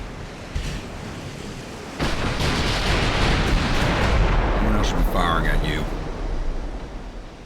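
Naval guns firing in the warship battle game Ultimate Admiral: Dreadnoughts: a sudden heavy boom opens into a sustained, rumbling roar with a washing, sea-like texture that slowly fades.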